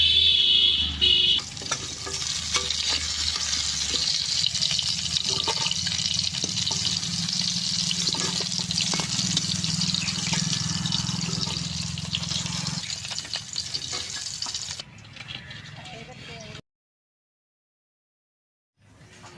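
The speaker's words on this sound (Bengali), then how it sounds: "কাঁকড়াটা ভাজা হয়েছে" Crab pieces for a village-style crab masala fry sizzle loudly in a pan, a dense continuous frying hiss with stirring scrapes and clinks, cutting off abruptly near the end.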